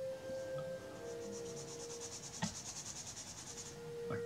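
Graphite pencil shading on paper, a soft, faint rhythmic rubbing of quick strokes in a quiet room, close to the listener.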